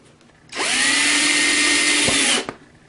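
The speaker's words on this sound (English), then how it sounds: "drill 2 holes so that we can hold this down" A power drill whirs loudly for about two seconds at a steady high pitch, then stops abruptly, followed by a small clack.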